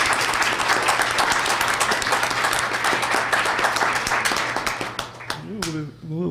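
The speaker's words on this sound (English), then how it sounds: "Round of applause, please" Applause from a comics conference audience, dense sustained clapping from a crowd that thins and fades near the end as a voice begins speaking.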